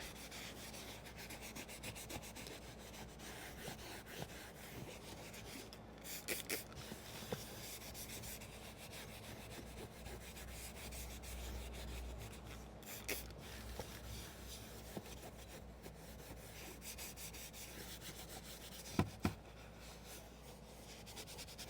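Gyeon Q2M Natural Leather Cleaner Mild is scrubbed into the leather seat of an inexpensive Porsche, producing faint, steady rubbing and brushing strokes with occasional slightly sharper scuffs and no voices.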